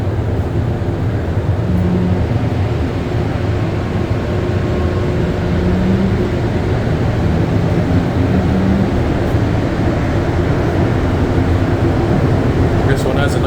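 A Montreal Metro MR73 train runs on the Yellow Line between Jean-Drapeau and Berri-UQAM, heard from inside as a loud, steady, low rumble and drone that never lets up.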